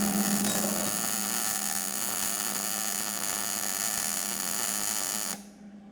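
Steady electric welding buzz and crackle while a 1-inch bead is run on a 2x72 belt grinder frame, continuous and close, cutting off abruptly near the end.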